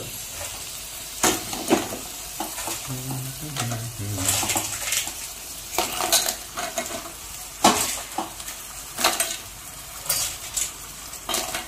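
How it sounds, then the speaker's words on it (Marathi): Crabs are stirred into masala in a pot for a spicy crab curry, giving repeated scraping and clattering knocks of a utensil against the metal pot over a soft sizzle, close and fairly loud. "आता चिंबोरे टाकतोय मसाल्यामध्ये मिक्स होईपर्यंत."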